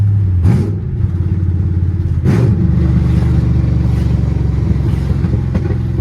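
Chevrolet Camaro SS LS3 V8 running with open longtube headers and no exhaust pipes, a loud close rumbling idle with deep lumpy pulses and two quick blips of revving, no voices.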